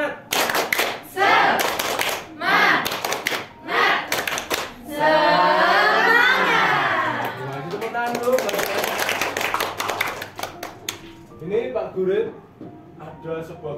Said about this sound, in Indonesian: Coba sekarang tepuk semangat.